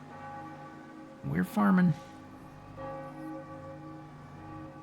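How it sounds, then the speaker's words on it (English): Church bells ring over a Sunday-morning rural Minnesota town in Farming Simulator 25, a sustained tonal drone of distant tolling; someone speaks briefly over it partway through. "they're ringing the church bells for church"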